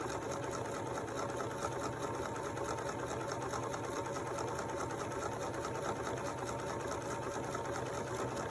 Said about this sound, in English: it's going stitching across, and now it's going to stitch back to make the other side of the buttonhole